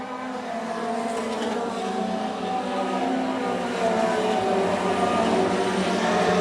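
Race cars roar steadily around the track during the Boss Hogg 150, a dense, continuous engine drone that swells louder toward the end, with no voices over it.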